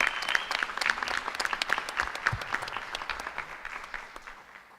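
Applause for a student breaks out in a room at a school board of education meeting, a dense burst of clapping from a modest crowd that slowly thins and fades over a few seconds.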